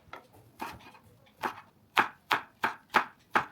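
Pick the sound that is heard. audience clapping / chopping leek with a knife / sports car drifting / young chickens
chopping leek with a knife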